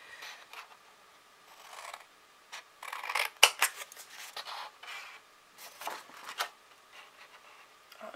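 Scissors snipping the corners off paper for a craft box, a string of crisp, close cuts in irregular bursts with soft handling rustles in between, quiet overall.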